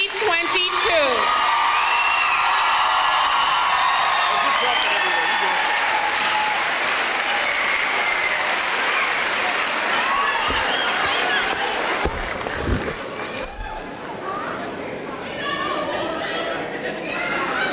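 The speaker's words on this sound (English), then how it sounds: "if we would please give one more round of applause for the class of 2022" An audience at an eighth grade graduation celebration for the class of 2022 claps loudly for the graduates, mixed with whoops and chatter, and the applause thins out toward the end.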